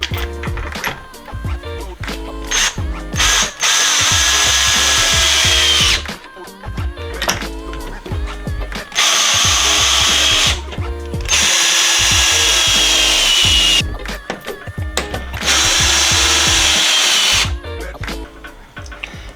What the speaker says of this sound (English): this should just quite easily drill into the wood and keep it nice and secure